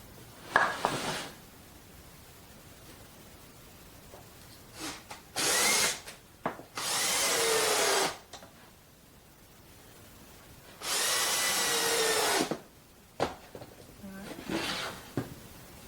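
Power drill driving screws into 2x4 wood, several whirring bursts of varying length, a few brief and two longer sustained runs, separated by pauses with handling sounds.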